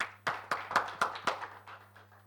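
A small group claps briefly, a handful of sharp claps that quickly fade out, with a faint steady hum underneath.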